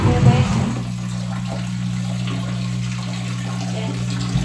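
Tap water pours steadily into a container in a home bathroom, a constant broadband rush with a low hum underneath, continuous and fairly close throughout.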